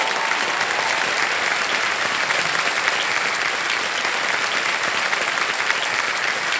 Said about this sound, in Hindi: तालियां बजती रहें देवियों सर में